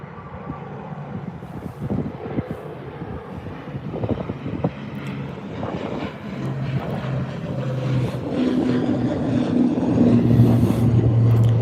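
An ATR 72-600 turboprop airliner at Birmingham Airport roars loudly with a steady propeller drone that builds over several seconds amid outdoor wind noise.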